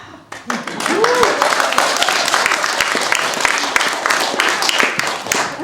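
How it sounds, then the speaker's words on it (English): Lively applause from an audience at the curtain call of a school play, loud and close, with scattered sharp claps and cheering voices over a continuous roar. "Curtain call. Thunderous applause."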